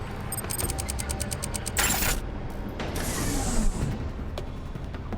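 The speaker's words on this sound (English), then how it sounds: "Ratchets of unusual size." Clicking ratchet mechanism in a video game, a quick run of sharp metallic ticks followed by a hissing burst and scattered creaks and clunks, fairly close with no voices.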